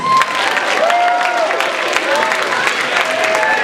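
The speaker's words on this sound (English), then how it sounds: "Let's give a big round of applause to our volunteers." Audience applause and some cheering for volunteers at a China Night school event, with clapping sustained throughout and a few voices mixed in.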